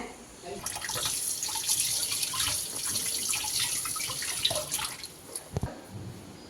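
Tap water runs steadily into a sink with clinks and splashes of dishes being rinsed, ending in a few louder knocks.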